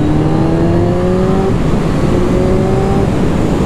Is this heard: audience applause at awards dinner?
no